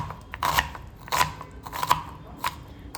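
A knife cuts through two or three onions on a board in a home kitchen while preparing a Maharashtrian chicken rassa, giving four distinct crisp chops spaced about half a second apart, close and moderately loud with no talking.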